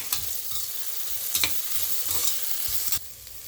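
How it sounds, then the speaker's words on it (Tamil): Medium onion and two green chillies sautéing in a pan for a coconut-free vegetable kurma, a steady sizzle punctuated by several scraping stirs and spoon taps, cutting quieter abruptly near the end, without speech. "2 பச்சை மிளகாய் நல்லா வதங்கட்டும்."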